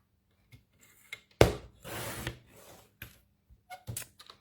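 Patterned double-sided cardstock being cut to 4 1/4 inches for a card, with a sharp slicing stroke followed by a longer scraping rasp and scattered light paper handling taps, close and fairly quiet with no talking.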